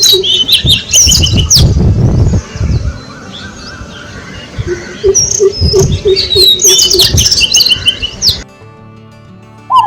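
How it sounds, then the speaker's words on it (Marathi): A greater coucal gives deep, resonant hooting calls repeating in a steady series amid busy background birdsong and chirping, outdoors, with no voices. "हा पक्षी आहे भारद्वाज"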